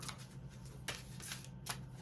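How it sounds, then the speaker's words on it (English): Tarot cards being shuffled by hand, a few quick papery riffling bursts close to the mic over a steady low room hum. "So let me shuffle these cards up."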